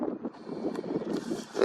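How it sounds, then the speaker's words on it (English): Wind buffeting an outdoor microphone while watching aircraft overhead, a steady low rumbling roar that swells and dips throughout, loud and continuous with no speech. "Very windy as well, so I'll try and cover that up."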